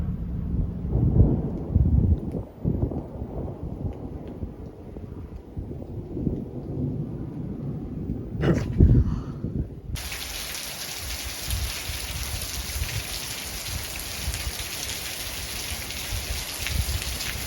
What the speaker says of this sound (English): This is the rain that we were trying to beat